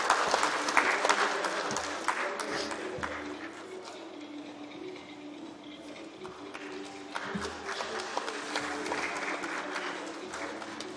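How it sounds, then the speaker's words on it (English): An audience at a panel discussion applauds the panelists, sustained clapping across the hall that dips slightly in the middle before swelling again, with no voices over it. "Let's have a round of applause for our panelists."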